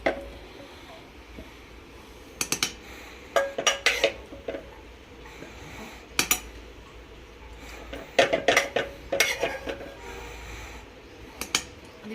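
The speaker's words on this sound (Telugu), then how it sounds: "మెల్లగా దంచుకోనండి లేకపోతే కళ్ళల్లో వచ్చి పడుతుంది కారము" Green chillies and peanuts being pounded in a stone mortar for a mint roti pachadi, giving sharp irregular knocks and clacks in short bursts over a quiet kitchen background.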